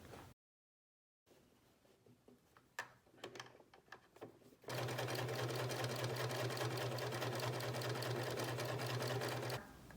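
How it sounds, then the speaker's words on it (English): A sewing machine stitches down the tucked raw edges at the corner of a backless crop top. A few handling clicks and taps come first, then a steady, loud motor hum runs without a break to the end. "the next step is to tuck in the raw edges at the corner and sew it down."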